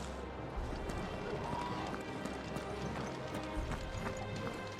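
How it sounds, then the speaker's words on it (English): Horse hooves clip-clop steadily in the fantasy video game Final Fantasy XVI, a continuous, moderately loud trotting rhythm set against ambient game atmosphere, with no clear speech. "Your steed is in fine fettle, my lord."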